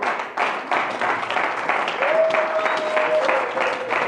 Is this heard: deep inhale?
no